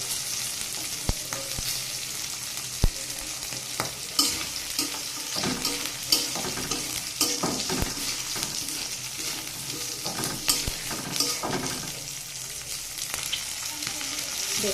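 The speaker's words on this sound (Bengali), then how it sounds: "মটরশুঁটিটা বেশি ভাজা যাবে না, ভাজলে এটা ফেটে উঠে চলে যাবে।" Green peas frying with turmeric in a pan for pilau: a steady close sizzle broken by scattered sharp ticks and pops, with occasional stirring scrapes.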